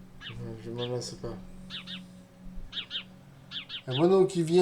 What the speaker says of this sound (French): on va entendre les chants de moineaux surtout